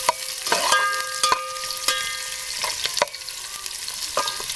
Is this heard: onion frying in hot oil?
yes